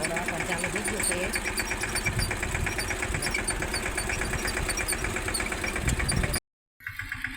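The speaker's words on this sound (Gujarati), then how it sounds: "હાલો ઘોડો આપણને ચાલુ થઈ ગયું છે." Close by, a tractor pulling an implement through an onion field runs with a steady, throbbing engine beat that cuts out abruptly near the end.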